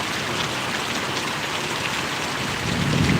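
Heavy rain pours steadily on surfaces in Paravadi village, Gariadhar taluka, Gujarat, a dense, loud, unbroken hiss that swells slightly toward the end.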